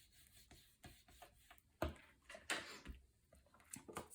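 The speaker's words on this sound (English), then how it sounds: "And then I'm going to just place this right here in the center and burnish this down." Paper being burnished flat onto a mini album page during scrapbook decorating, heard as soft rubbing and rasping strokes that come in short bursts, with a few louder swipes and otherwise quiet surroundings.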